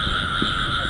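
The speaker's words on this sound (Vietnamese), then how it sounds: "Ếch kêu quá mà nó không chịu ra." Frogs croak in a rice field at night, a dense continuous chorus of high trilling calls with a close croak or two rising briefly out of the steady din.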